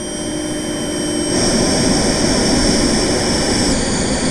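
A synthesized jet turbine engine from the TURBINE plugin whines with a steady tonal hum, then swells into a louder, noisier rush partway through, sounding close and sustained.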